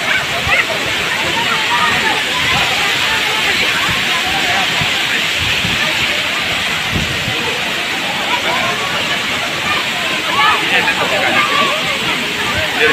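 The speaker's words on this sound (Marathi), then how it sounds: "माझ्या पाठीमागे प्रवाहित झालेला हा राधानगरी राऊतवाडी धबधबा।" The Rautwadi waterfall at Radhanagari pours in a steady, loud, full-bodied roar of rushing water that never lets up, with faint crowd voices mixed into the background.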